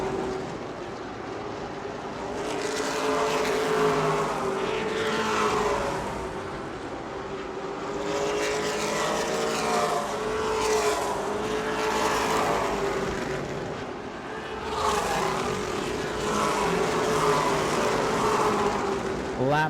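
Race cars circle the track at the New Smyrna World Series, a continuous roaring drone of engines that swells and fades in waves as the cars pass, loud and steady throughout.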